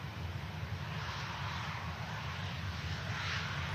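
Steady, loud aircraft engine rumble from an Aer Lingus ATR 72-600 turboprop taxiing at Manchester Airport, a continuous broadband roar with heavy low-frequency drone and no clear voices.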